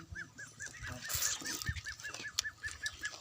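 Geese honk in a rural setting, a rapid series of about a dozen evenly spaced nasal honks at moderate distance, over low background clatter and a faint murmur of activity.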